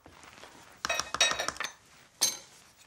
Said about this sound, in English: So let's take some glass dishes.